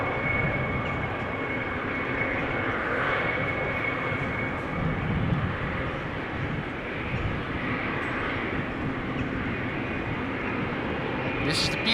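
A KLM Boeing 777 bound for São Paulo taxis at Amsterdam Schiphol airport, its jet engines giving a continuous loud broadband roar with a steady whine throughout.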